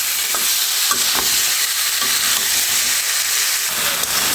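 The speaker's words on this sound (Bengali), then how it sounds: "এখন দিয়ে আমি খুব সুন্দর করে কষিয়ে নেব এখানে মশলাটার সাথে নেড়ে ছেড়ে দিচ্ছি" Hilsa fish cooks with spices in a hot pan and is stirred, producing a loud, continuous hissing sizzle with faint scrapes and clicks from the stirring, close up and without voices.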